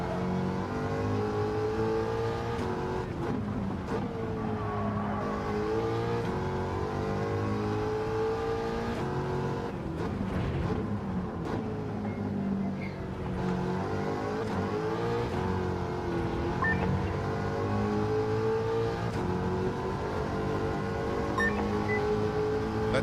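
American muscle car engine in a racing video game, revving and droning continuously up close as the pitch rises and falls through gear changes and corners, with no voices.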